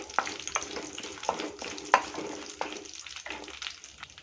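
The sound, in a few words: whole spices frying in oil for tempering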